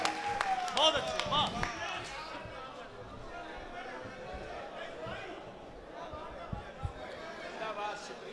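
A crowd at an All India Mushaira poetry gathering in Malegaon breaks into sustained applause after a short spoken introduction, the clapping settling into a steady, moderately loud wash with scattered chatter.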